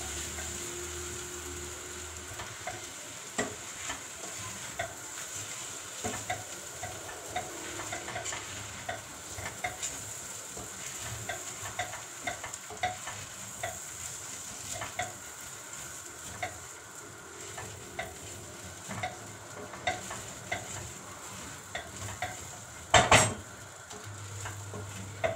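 Soaked rice mixed in a hot pan for Turkish rice, with a low steady sizzle under frequent small scraping clicks of the spoon and one sharp clank late on, close and without talk.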